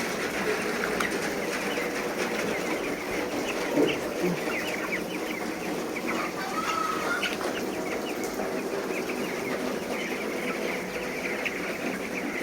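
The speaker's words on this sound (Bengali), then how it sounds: "মুরগিরা বৃষ্টি বিলাস করলো।" Nineteen-day-old Golden Feather chickens out in the rain, clucking and flapping their wings in a steady, fairly distant wash of rainfall, with a brief louder flutter near the middle.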